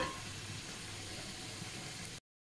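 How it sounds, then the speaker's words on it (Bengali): Spices for a bottle gourd and shrimp curry sauté in a pan, a steady close bubbling sizzle that holds evenly, then stops abruptly near the end. "মশলাগুলাকে কষাচ্ছি"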